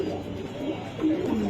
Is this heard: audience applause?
no